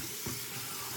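Hot water runs from a tap into a sink, a steady close hiss and splash heard alone at low volume.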